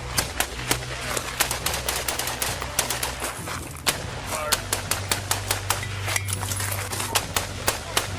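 Rapid gunfire crackles during a police shootout with suspects, with sharp repeated shots in irregular bursts over a steady low engine hum, some shots close and loud, others slightly softer.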